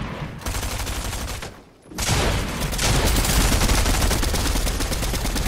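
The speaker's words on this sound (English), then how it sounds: "Why is he shooting at me" Rapid gunfire from weapons in the video game Fortnite, a dense loud burst of repeated shots, a short break, then continuous sustained shooting to the end.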